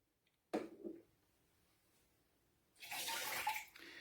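Water escapes and splashes from a leaking Krups Nespresso Inissia coffee machine, in two short bursts of trickling and pouring, a brief one early on and a longer louder rush near the end, with quiet between.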